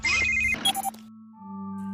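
A tablet's ringtone for an incoming call sounds in a short electronic melodic burst, loud and close, then gives way to a sustained low tone fading into quiet.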